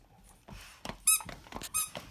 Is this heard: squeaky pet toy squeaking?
yes